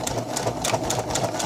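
A sewing machine runs steadily while stitching the hem of a formal dress with a tulle and satin skirt, a close, continuous rapid whirring with regular mechanical pulsing and no talking.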